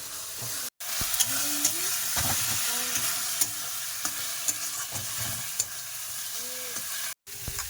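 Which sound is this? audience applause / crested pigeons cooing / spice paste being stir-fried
spice paste being stir-fried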